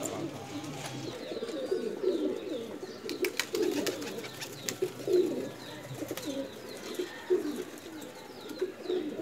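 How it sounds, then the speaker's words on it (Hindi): Soft, repeated coos from a flying pigeon rise and fall in a steady rhythm, close by, with faint chirps and clicks in the background. "मैं अभी आपको अपने परवाज़ी कबूतर का शो कराऊंगा"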